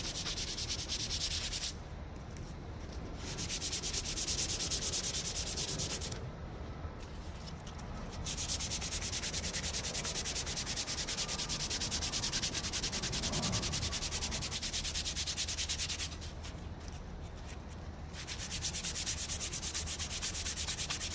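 Sandpaper of 320 then 600 grit rubs steadily against car trim pieces for a Honda CRX rocker panel, a continuous close scratchy hiss broken by a few brief pauses, with no talking.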